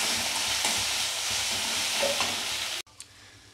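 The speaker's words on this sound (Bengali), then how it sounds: "রসুনটাকে দিয়ে ভালো করে একটুখানি আবার ভেজে নেবো।" Garlic sizzles steadily in a hot pan of frying spice mix for a crab bhuna, a continuous close sizzle with occasional stirring scrapes before it abruptly quietens.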